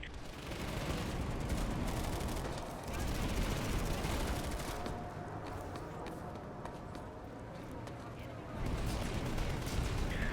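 Dense, continuous gunfire crackles throughout a PlanetSide 2 style battle in a video game, with bursts of automatic fire and distant blasts layered into a busy battle din.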